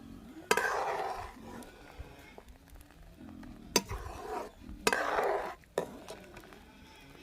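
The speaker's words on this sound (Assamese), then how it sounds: "এতিয়া মই ভাজি লোৱা মাংসখিনি দি লৈছোঁ।" Fried pork is stirred into a pot of simmering black gram dal: a spoon scrapes and knocks against the pot in several sharp clanks, between stretches of soft bubbling and sizzle, heard close by.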